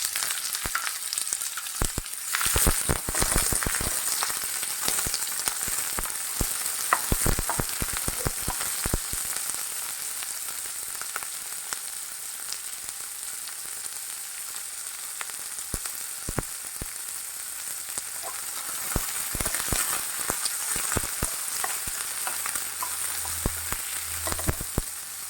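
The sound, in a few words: onion frying in a pan after garlic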